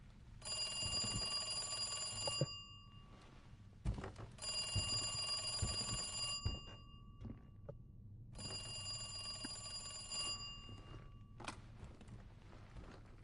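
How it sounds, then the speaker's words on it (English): An old-style electronic telephone ringing inside a police station setting in the video game Resident Evil 2 Remake, three long trilling bursts of about two seconds each with short pauses, fairly loud over faint background footsteps and thuds. "going to grab the card, you'll get the phone ringing"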